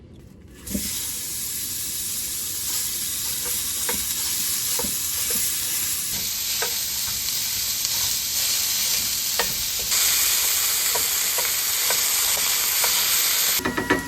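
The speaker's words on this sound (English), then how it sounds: "I'm going to add my ground beef and onions, and we're going to cook these up until we've browned the ground beef" Ground beef and onions fry in a single pan, a loud, dense sizzle running the whole time with repeated scraping stirs. Short clicks mark the start and end, and the hiss grows brighter partway through.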